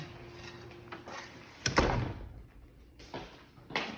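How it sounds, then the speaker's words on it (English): A door being shut at home with outdoor yard work going on: soft shuffling, then a sharp close thud with a brief rattle, followed by a couple of quieter knocks and handling sounds. "I need to shut my door"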